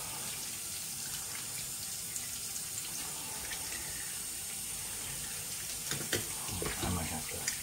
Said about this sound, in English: let's get this razor all rinsed off here